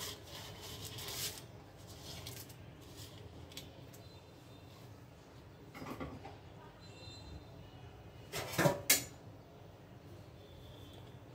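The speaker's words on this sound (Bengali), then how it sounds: "চুলায় এখন নাড়তে থাকি, হতে থাক।" Pitha being stirred in a pan on a stove gives rough scraping rubs in irregular bursts, over a low steady background rumble.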